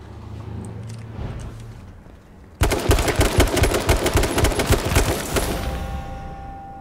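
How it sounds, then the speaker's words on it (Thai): Rapid gunfire in a video game: a dense burst of repeated shots starts abruptly after quiet background noise and stays loud, followed by a fading tail with a sustained tone. "เราได้เสียงปืนด้วยล่ะ"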